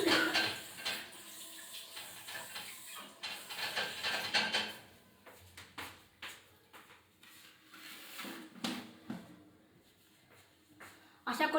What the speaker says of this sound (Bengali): আমি একটু হাতটা ধুয়ে আসি।